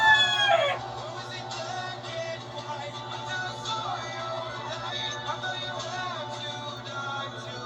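A rooster crows once at the start, fairly close, followed by scattered clucking and other fowl calls over a steady background hum, with no talk.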